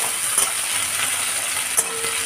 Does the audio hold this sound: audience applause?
no